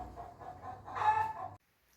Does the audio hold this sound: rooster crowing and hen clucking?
yes